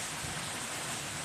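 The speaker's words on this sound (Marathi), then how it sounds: "पाण्याची थेंब असे छान पानांवरून खाली नितळतात आहे. हे अनोखं संगीत आहे" Rainwater drips and patters off leaves in a steady, soft, dense hiss of falling drops, brief and continuous with no voices.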